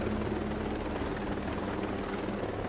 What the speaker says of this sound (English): this helicopter's kind of loud. It's kind of drowning out the audio